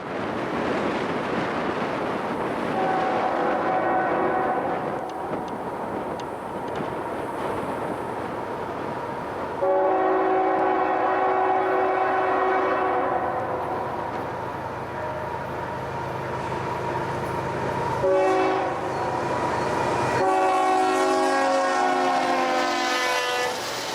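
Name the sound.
train passing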